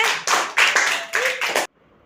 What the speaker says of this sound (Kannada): ಜೋರ್ಲೆಲ್ಲರೂ ಚಪ್ಪಾಳೆ